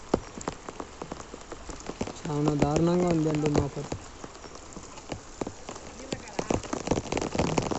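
Steady rain falls on a farmer's ripe paddy field in Seethanagaram village, Kajipet mandal, Kadapa district, during a cyclone. A constant close hiss carries throughout, and someone speaks briefly partway through.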